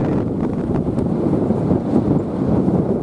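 Wind buffets the microphone at a radio-controlled IOM one-metre sailing race in Corpus Christi, Texas, making a constant low rumbling roar with no speech over it.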